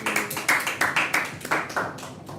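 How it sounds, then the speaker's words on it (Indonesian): A small group claps for a jiu-jitsu coach at a Jakarta sports talk show, about a dozen fairly loud, slightly uneven hand claps in a steady rhythm, close by and without talk. "Kita beri tepuk tangan buat Mas Dedi"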